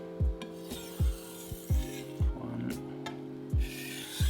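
A stainless steel knife drawn single-sided across a 1000-grit whetstone, giving close, regular scraping strokes about every half second, around eight in a row with faint rasping between them and no voices.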